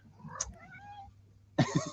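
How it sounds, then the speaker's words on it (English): A pet cat gives a short, faint meow early on, followed near the end by a louder burst of close sound that could be a voice or another cry. "Did you have something to say, my pretty pussycat?"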